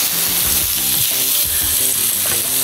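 Burger patties and sauerkraut with apple frying in a pan over turned-up heat, a steady loud sizzle and crackle running throughout with no voices.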